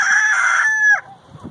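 A chicken in a backyard chicken tractor lets out one loud, drawn-out crow-like call lasting about a second, close by, followed by faint clucks.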